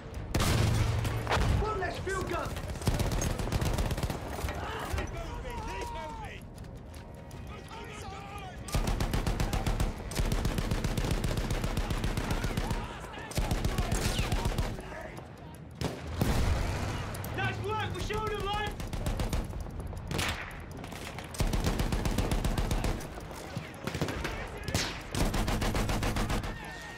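Battlefield 1 battlefield gunfire, bursts of rifle and machine-gun shots with booms, loud and repeated in waves throughout, mixed with occasional voices.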